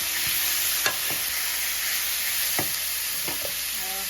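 Pupusa filling being mixed in a hot pan, a constant bright sizzle with a few sharp scrapes and clacks of the utensil against the pan at irregular intervals.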